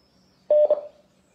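Telephone keypad tones sound close and clear: a quick pair of dialing beeps followed by a short fading tail, alone in an otherwise quiet room.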